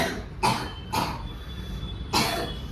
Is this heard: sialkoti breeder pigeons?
no